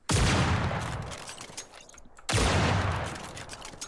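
Two loud bursts of gunfire from a Cyber Hunter battle royale match, one at the start and another just after the midpoint, each followed by a decaying rumble, with no talk over them.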